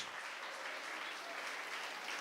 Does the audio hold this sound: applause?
yes